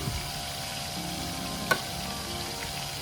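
Squid fries in a pan under a cover with a steady, moderate sizzle and one sharp tick near the middle. No one speaks.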